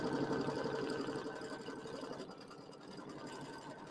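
An embroidery machine stitches a tack-down line on a pineapple quilt block, a fast, steady mechanical chatter at moderate volume that eases slightly softer toward the end, with no talking.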